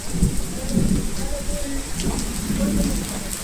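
Steady rain falls close by in a dense, continuous hiss, with a soft low rumble underneath throughout.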